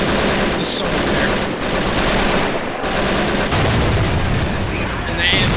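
Dense gunfire from the World War II strategy game Men of War: Assault Squad 2, rapid machine-gun bursts and loud booming shots packed together continuously for several seconds.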